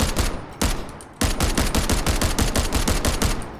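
Automatic gunfire from a weapon in the video game Delta Force Havoc Warfare: loud, rapid, crisp bursts of shots, with a brief break before a long sustained stream of fire.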